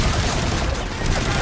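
Gunfire in the video game Call of Duty Infinite Warfare, a dense, loud burst of rapid automatic shots filling the whole moment, with battle noise all around.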